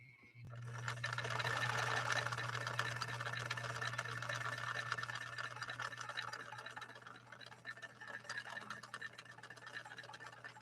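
A 1961 Viki sewing machine stitches with fragile Sulky 40 wt rayon embroidery thread, running at a steady, moderate speed as a continuous close whirring hum with a fine rapid needle patter, alone without talk.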